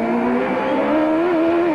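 Mario Andretti's IndyCar engine heard onboard from the cockpit on the 1991 Denver street circuit, a loud, close, steady whining drone whose pitch dips briefly and then climbs again, with no talk over it.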